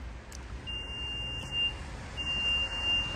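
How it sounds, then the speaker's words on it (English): A Renault Austral (2023–2024) sounds two steady, high electronic beeps from its power tailgate as a new opening height is stored, each beep lasting about a second with a short gap between. "now that beep is to say that's the new opening position for the tailgate"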